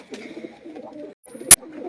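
Pigeons coo on a rooftop loft at a pigeon club in Mianwali, a few soft, rolling calls close by, then a brief sharp clatter cuts in near the end.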